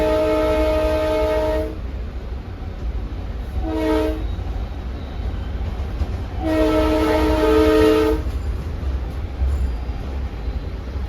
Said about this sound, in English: Horn blasts.